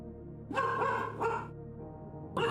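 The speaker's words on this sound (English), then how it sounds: "So we get to listen to the dog bark for the next" A dog barks in three separate bursts, fairly close, the first two drawn out and the last cut short, over a low steady hum.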